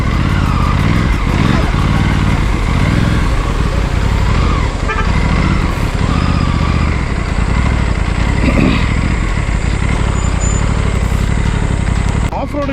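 An Aprilia Tuono 457 motorcycle is ridden at speed, its engine and the rushing wind forming a loud, steady roar that fills the whole stretch without pause.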